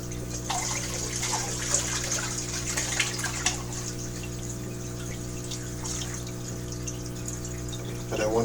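Water pouring into a fish tank, a continuous splashing trickle over steady pump-like hum, with a brief louder gush near the end.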